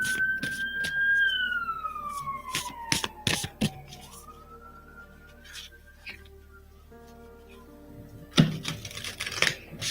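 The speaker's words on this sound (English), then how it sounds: "Apologies if you can hear the siren." A police siren wails outside, its pitch sliding up and down before fading, while close clicks and taps sound nearby.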